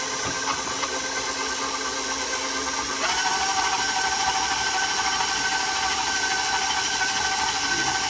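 A stand mixer beats cream cheese pound cake batter with a steady motor whir, and the pitch steps up partway through as the speed is raised. Close and continuous, with no talk.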